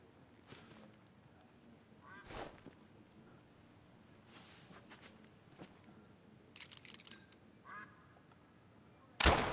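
Ducks quacking in an open field in Scotland, scattered calls and honks at a distance, some faint rustling and clicks between them, and a loud bump at the end.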